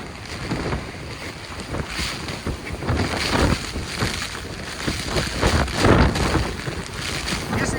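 Storm wind gusts hard across the Lazarevskoye seafront at night, roaring and buffeting the microphone in surging waves, with surf churning underneath; no clear talk.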